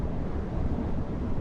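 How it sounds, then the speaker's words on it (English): Steady, loud broadband rush of wind roaring past a Porsche Panamera cruising at 200 km/h on a German autobahn, a continuous even wash with no breaks, heard alone without talk. "The noise from the air is much louder."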